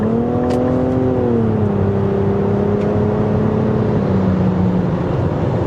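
A 2025 Nissan Rogue SL with a turbocharged three-cylinder engine accelerates to pass on the road, a steady engine drone with rising and falling pitch under road and wind noise, heard from inside, no speech.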